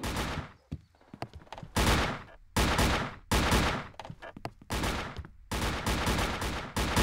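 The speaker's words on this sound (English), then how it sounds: "This is the firing range, where you'll learn how to use different weapons." Gunshots at a firing range in the El Matador game, sharp separate reports and short bursts with gaps between, fairly close and clear with no talking.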